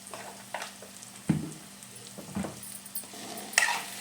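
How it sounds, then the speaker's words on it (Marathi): A green pea paratha filling is stirred and sautéed in a pan with salt and coriander powder, giving a soft sizzle with several clear scrapes and clinks of the spoon against the pan, close up and with no talking. "1-2 मिनिटं असं चांगलं परतून घेऊ आपण।"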